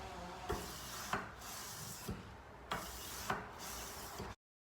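Knife blade being sanded by hand with fine-grit sandpaper, a continuous close scratchy rubbing broken by several sharp clicks and stroke changes, ending abruptly, with no speech.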